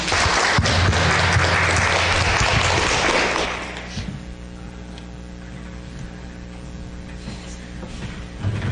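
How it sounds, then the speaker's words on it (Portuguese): Applause fills a municipal council chamber in Pontalina, Goiás, a dense crowd clapping for about three and a half seconds before fading into a quiet room hum with faint murmurs. "uma salva de palmas para Jesus."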